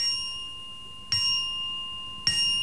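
A small bell on the tip of a wizard's hood gives two light, clear tinkles about a second apart, each ringing briefly over a quiet background with no talk.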